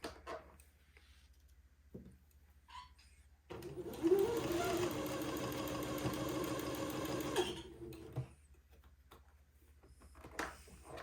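A sewing machine runs steadily for about four seconds, stitching a day gown sleeve onto entredeux lace trim, with quiet handling noises before and after the burst.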